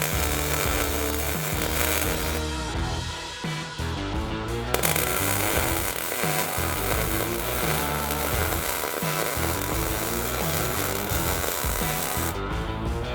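Harsh, loud grinding churns on with little pause while a welded steel frame is ground smooth during a front stretch on a Jeep YJ. The rough, broadband noise fills the whole stretch with small shifts in intensity.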